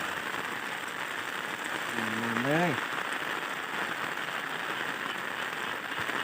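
Rain falls in Thailand with a dense, steady patter and hiss throughout; midway a brief rising voice-like tone sounds over it before the rain carries on alone.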